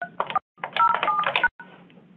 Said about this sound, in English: Enter your password followed by the pound key.